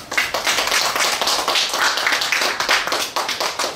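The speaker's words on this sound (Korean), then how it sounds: "우리 이시재 선생님 큰 박수로 맞이해 주시면 고맙겠습니다." Audience applause welcoming a guest lecturer at an anniversary lecture, a dense, steady patter of many hands clapping throughout, fairly loud and close, with no talk over it.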